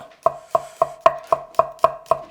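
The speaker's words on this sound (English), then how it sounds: "Now I'm going to cut the garlic." A kitchen knife slices through garlic on a cutting board in eight crisp, evenly spaced taps, close and clear, with nothing else heard between the cuts.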